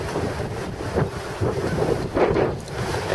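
Outdoor wind gusts buffet the microphone in a steady, rushing roar that swells and dips over a few seconds, fairly loud and continuous, with no voices.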